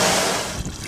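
Water drains and trickles from exhaust fan wash pads used in kitchen hood cleaning, the grease and solids held back in the pads; a steady close wash of liquid that fades slightly over a brief second, with no voices.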